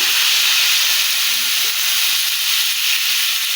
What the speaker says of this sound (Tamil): தோசை தவா சூடாயிருச்சு. இப்போ வந்து நம்ம தோசை ஊற்றிக்கலாம்.